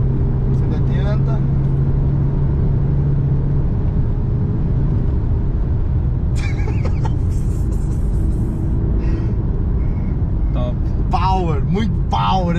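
Engine of an Audi A7 with 4x4, rated 320 to 400 hp, pulling hard at high speed on a German road: a steady loud drone and rumble throughout, with someone talking over it.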